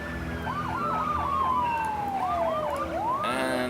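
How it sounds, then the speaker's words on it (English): Wailing SimCity video game sirens sweep up and down in overlapping tones, one falling steadily while another warbles, loud and continuous with background rumble. "And the sirens are really bugging me."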